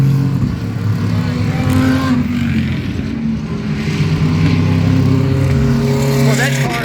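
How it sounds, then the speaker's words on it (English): GT3 race cars led by an Aston Martin pass loudly at a racetrack corner, one engine roar sweeping by after another, with someone speaking over the passing cars. "Here come the GT3 cars, led by the Aston Martin."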